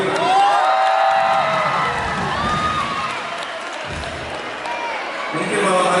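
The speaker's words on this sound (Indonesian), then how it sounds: "Tepuk tangan untuk Mandiri ya?" Crowd at an outdoor concert at a Makassar carnival cheering, whooping and applauding, with shouts rising and falling across several seconds and voices mixed into the noise.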